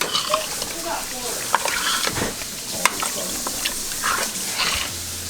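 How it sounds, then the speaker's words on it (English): Canned tomatoes for spaghetti sauce are stirred in a pot, giving a continuous wet churning and bubbling with occasional sharp spoon knocks against the side, close up and steady throughout. "Now you're gonna give this a stir."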